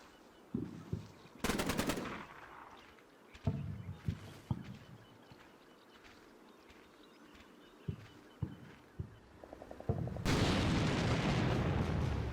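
Gunfire in the Combat Mission Black Sea game as a flanking team opens fire: scattered single shots and short bursts, with a long dense burst near the end, loud and crisp over a low battlefield rumble.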